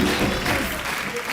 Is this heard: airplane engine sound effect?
no